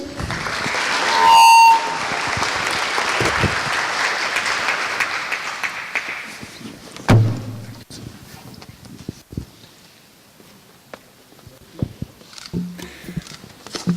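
A conference audience at an environmental emergencies forum opening ceremony applauds the UN Environment Executive Director, a dense burst of clapping with a brief electronic beep near the start, fading after about seven seconds into scattered claps, shuffling and room noise.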